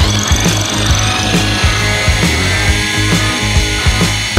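A drill bit is held at an angle against a powered sharpening machine, giving a steady loud grinding whir with a faint repeating rhythmic pulse throughout, close by and with no talk.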